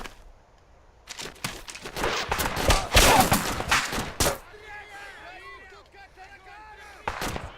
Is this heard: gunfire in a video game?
yes